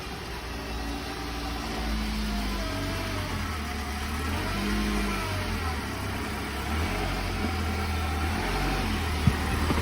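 A jump-started car at a towing auction idles steadily and fairly loudly, a low rumbling drone with slight rises in revs and no talking.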